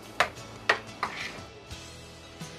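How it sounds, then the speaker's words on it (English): Stuffed green pepper filling with ground pepper and basil leaves being mixed in a bowl, a handful of light clinks and knocks of a utensil against the bowl, close but soft, spaced irregularly and then fading into quieter stirring. "Right now I'm gonna mix everything together."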